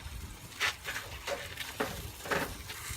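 Garlic and ginger are stirred into melting butter in a pot, a soft sizzle with a few rhythmic scraping strokes of the spoon, close and quiet, with no talking.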